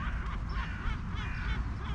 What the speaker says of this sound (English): certainly the crows are flying away with something in their mouth.